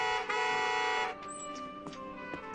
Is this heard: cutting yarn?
no